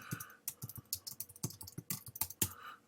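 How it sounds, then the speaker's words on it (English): Quiet, close tapping on a computer keyboard as text is typed, irregular clusters of light key clicks with brief pauses between them. "Now I can, of course, type some text."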